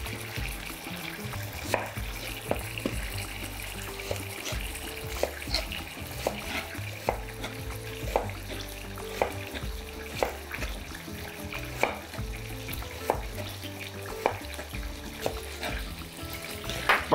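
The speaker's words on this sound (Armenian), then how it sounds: "հենց նույն յուղի մեջ տապակելու ենք 2 գլուխ կարմիր սոխ, կտրատած փետրաձև։" Two heads of sliced red onion fry in oil left over from cooking beef liver, a low steady sizzle broken by regular scraping stirs of a utensil against the pan.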